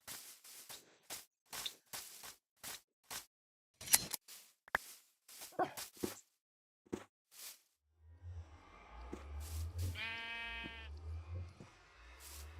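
A Minecraft sheep bleats in a wavering, nasal cry near the end, following a string of sharp, evenly spaced game clicks and taps, with no talk.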